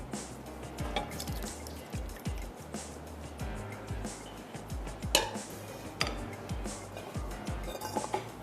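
Kolhapuri egg curry being ladled into a serving dish: wet drips and soft pours mixed with repeated clinks of a metal ladle against the pot and dish, close and moderately loud.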